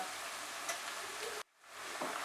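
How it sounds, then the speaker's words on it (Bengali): Ginger paste frying with chopped onions over medium heat gives a steady broadband sizzle that cuts out abruptly to near silence, then gradually returns at a lower level. "আদাটা দিয়ে আমি 1 মিনিট এটাকে ফ্রাই করে নেব।"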